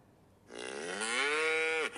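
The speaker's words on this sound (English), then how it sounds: "my answer is A. Cow." A single cow gives one long, loud moo that rises and holds before cutting off, close and clear against quiet surroundings.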